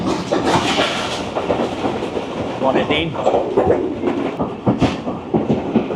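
Rawal Express train crossing the bridge over the Jhelum River near Jhelum during a lightning storm, a loud steady rumble with rhythmic clickety-clack of wheels over rail joints, heard from on board with someone talking throughout.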